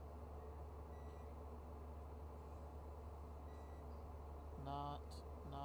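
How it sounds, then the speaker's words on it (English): A continuity tester checks data lines during an electronics repair. A few faint short beeps give way to a clearer, stronger electronic beep near the end, all over a steady low background hum. "Is that one supposed to beep?"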